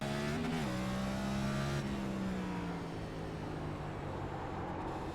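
Fixed Cup stock cars roaring away on a green-flag restart at the short Martinsville oval in iRacing, a steady loud engine drone with pitch rising then settling, several cars blending together with no voices.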